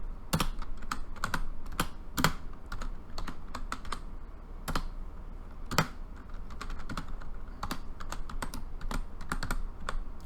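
Steady typing on a computer keyboard, close and crisp, with uneven clusters of keystrokes running for about ten seconds and no speech.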